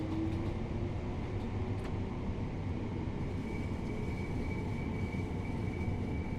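A Class 377 electric train slowing to a stop at a platform, heard from inside the carriage as a steady low rumble and hum with a faint whine, no talking.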